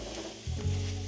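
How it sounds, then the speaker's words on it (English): Apples cut into small squares sautéing in a pan with white sugar and cinnamon, a steady close sizzle with a stirring scrape and a louder burst of frying partway through. "So now we're going to saute our apples with some"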